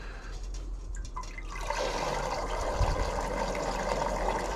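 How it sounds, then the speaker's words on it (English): Fizzing, hissing gold stripping solution from a sulfuric stripping cell poured into water, a steady broadband hiss swelling in after a brief trickle and holding loud to the end, with no talk. "I don't know if you can hear that fizzing, hissing."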